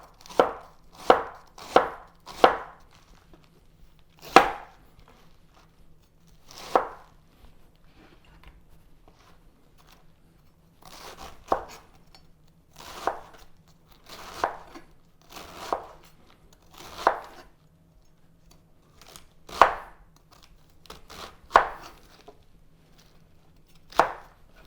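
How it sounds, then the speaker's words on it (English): A knife chops red and green cabbage for coleslaw on a cutting board, sharp close thuds coming in quick bursts and spaced single strokes with pauses between, no voices. "And then just, again, chop it as fine as you want."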